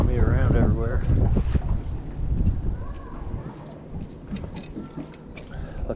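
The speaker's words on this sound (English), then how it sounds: "This wind is picking up and blowing me around everywhere." Strong wind buffets a fishing boat out on the water, with rough, gusty rumbling noise from the wind hitting the microphone as someone talks over it.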